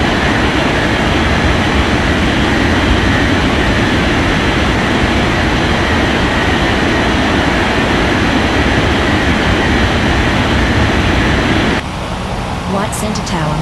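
Airliner roaring down the runway on takeoff in an air traffic control game, a loud continuous broadband engine rush that holds steady, then drops abruptly near the end.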